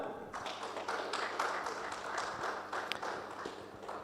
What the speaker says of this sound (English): Please join me in welcoming him with a huge round of applause, Brigadier Steve Ismail